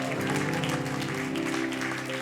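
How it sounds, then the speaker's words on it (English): Congregation at a church gathering clapping in celebration, a sustained wash of applause layered over music, steady and fairly full throughout. "can we clap about it?"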